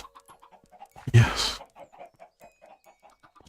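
Chickens in Minecraft, a run of short evenly spaced clucks with a brief loud burst of noise partway through, while a person talks.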